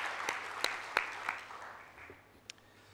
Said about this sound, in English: can we just have a big round of applause for them?